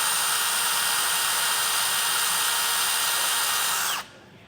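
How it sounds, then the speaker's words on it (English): A power drill runs steadily with a 1/2 inch bit boring into the steel frame of a 2024 Ram 1500 pickup, a loud continuous whine held for about four seconds before it stops abruptly. "we're going to use a 1/2 inch drill bit to mark out the spot in the center."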